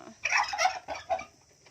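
A turkey calls up close with a rapid, rattling gobble in two quick bursts, then falls quiet.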